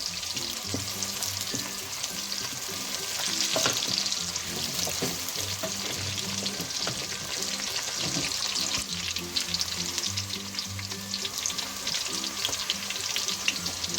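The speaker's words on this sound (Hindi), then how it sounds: "प्याज को हमने कर लेना है फ्राई, लेकिन ज़्यादा फ्राई नहीं करना" Steady sizzling of onions frying in a pan for pulao, a continuous crackling hiss with occasional stirring clinks, no voices.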